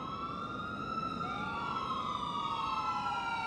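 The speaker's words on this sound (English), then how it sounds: "I find it funny though how long it actually takes them to react to the sirens" Several police sirens in Grand Theft Auto IV wail together in overlapping rising and falling tones over a steady traffic rumble, fairly faint and with no talking.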